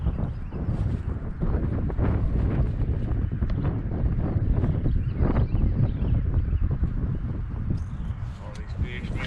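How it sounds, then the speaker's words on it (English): Strong wind buffets the microphone nonstop during a pre-spawn trout fishing trip near a rock wall in spring, a loud, broad roar of gusts with no break. "Wind picked up."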